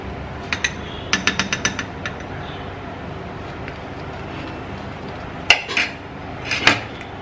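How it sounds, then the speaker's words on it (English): A spoon scoops blended potato puree, producing light scattered clinks and scrapes against a bowl in a quiet room, with a few sharper taps toward the end. "Okay, you're scooping it in here."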